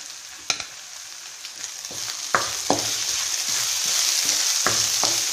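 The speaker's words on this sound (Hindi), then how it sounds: "अब हमारा प्याज के साथ साथ लहसुन और अदरक का दरदरा पेस्ट भी भुना जा रहा है" A coarse paste of onion, garlic and ginger frying in a pan for horse gram (kulthi) dal, with roasted fenugreek powder mixed in; a bright continuous sizzle is broken by several sharp spatula clacks against the pan, with no voices.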